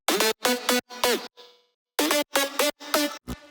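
A main synth lead layered with wide stereo synth layers in a music mix, heard as loud, bright stabbed chords in a choppy rhythm with a short breath-like pause in the middle.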